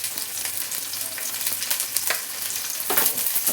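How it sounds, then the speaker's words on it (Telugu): Onions frying in a pan for mint rice, a close, continuous hiss and crackle with occasional stirring scrapes and a louder surge near the end, no voices. "ఇప్పుడు ఆనియన్స్ యాడ్ చేసుకుందాం."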